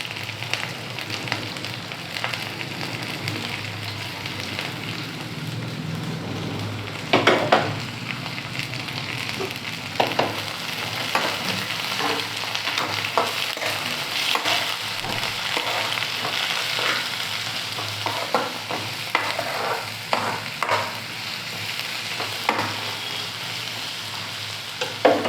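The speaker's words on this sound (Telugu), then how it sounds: "ఇప్పుడు మనం తీసుకున్న ఈ వెజిటేబుల్స్ అన్నీ కూడా ఇలా ఒకేసారి వేసుకుంటున్నాను, ఎందుకంటే ఇవన్నీ కూడా ఫ్రై అవడానికి కొంచెం టైం పడుతుంది" Vegetables for pasta frying together in a pan, giving a continuous crackling sizzle with repeated utensil scrapes and stirring knocks throughout, fairly close and loud.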